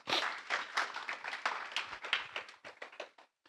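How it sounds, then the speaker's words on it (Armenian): A small group claps, scattered uneven applause lasting a few seconds before tapering off, fairly faint and somewhat distant. "եկեք ծափարենք նրանց"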